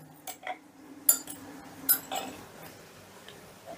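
A spoon stirs chilli fish sauce with vinegar in a bowl, giving a handful of light, close taps and clinks at irregular intervals over a faint background hum.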